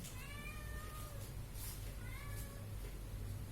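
Several cats meow repeatedly indoors, rising drawn-out cries standing out over a low steady hum in the background.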